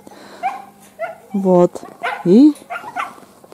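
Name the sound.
dog barking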